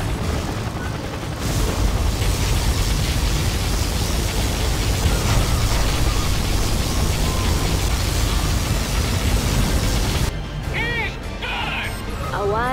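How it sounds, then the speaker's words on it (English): Particle cannon firing in Command & Conquer Generals: a sustained, dense roar of beam energy and explosions that fills about ten seconds, then cuts off, leaving quieter sci-fi electronic chirps and a voice. "Particle cannon activated."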